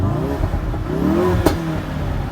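Car engine revved toward 5,000 rpm at a cars and coffee meet in Southlake, a rising mid-pitched roar with a sharp pop near the middle, heard close and fairly loud without any talking.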